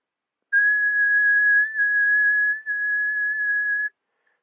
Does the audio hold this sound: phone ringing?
no